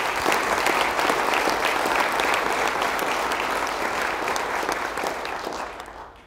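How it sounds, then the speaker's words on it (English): Loud, dense applause from a large crowd at an organisation's all-hands staff meeting, sustained evenly for several seconds before tapering off at the end. "let's give Extension a big round of applause today"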